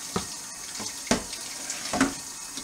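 Water runs steadily from a tap into a Sanke keg being scrubbed clean with soap for homebrew, a continuous hiss broken by a few soft knocks and splashes.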